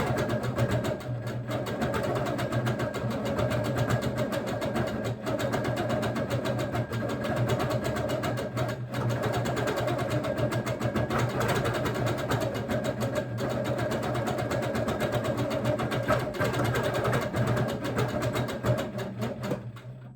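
An HQ quilting machine stitches ice-dyed fabric with a steady, close, continuous mechanical hum and rapid needle chatter, running alone without pause throughout.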